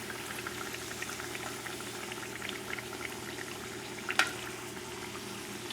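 New Orleans-style beignets fry in hot oil, a continuous soft bubbling sizzle with fine crackles, plus one brief sharper pop near the end.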